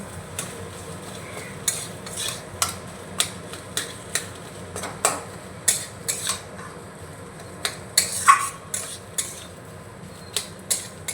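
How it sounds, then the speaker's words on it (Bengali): A spatula scrapes and knocks against a pan as boiled, mashed potato is sautéed with spices and salt, sharp rhythmic clacks about every half second over a soft, low sizzle. "মশলার সঙ্গে আলুটাকে আমি ভালো করে কষিয়ে নেব।"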